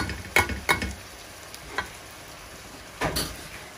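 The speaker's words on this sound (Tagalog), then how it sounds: "haluin natin muna kasi nabubuo na siya" A spoon stirs food in a cooking pan, giving a handful of separate scraping strokes at uneven intervals, close and fairly soft over a faint steady hiss.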